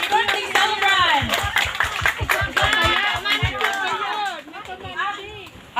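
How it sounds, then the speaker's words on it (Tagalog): Enthusiastic applause from a crowd at a birthday celebration, steady rapid clapping with cheering voices mixed in, loud and close throughout. "Malakas na palakpak po para sa birthday celebrant!"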